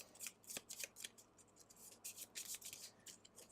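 A deck of Gloomhaven monster attack modifier cards is shuffled by hand in quiet, quick bursts of riffling and sliding, with short pauses between them.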